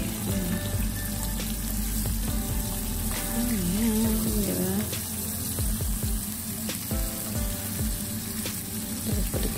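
Squid and prawns frying in a pan, a steady continuous sizzle with scattered crackles and clinks of utensils stirring and flipping the seafood, close up and without talk.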